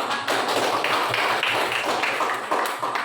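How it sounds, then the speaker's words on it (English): A class of students applauding in a classroom, a loud, steady patter of many hands clapping in bursts across the whole stretch, with no talk. "please give applause for book"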